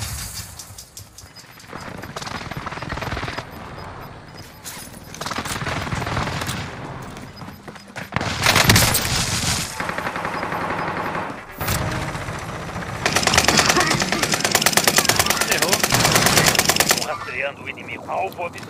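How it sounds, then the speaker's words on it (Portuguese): Bursts of gunfire from Call of Duty: Warzone come in several loud rapid volleys amid dense game noise and hoof-like clatter, with the player talking over the action. "Tô levando o tiro!"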